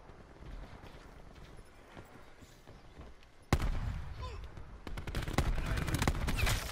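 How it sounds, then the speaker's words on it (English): Gunfire from an annihilator weapon in a video game cracks out in loud, rapid shots after a quiet stretch, with a voice speaking faintly underneath. "I don't know why I'm missing my shots with my annihilator, but I can hit him perfectly with the ABR"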